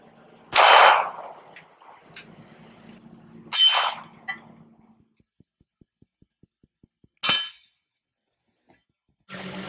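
Three separate 9mm full metal jacket 115-grain rounds from a long barrel strike an AR500 steel armor plate, each a sharp metallic clang spaced a few seconds apart, with faint ticking between and another impact starting at the end.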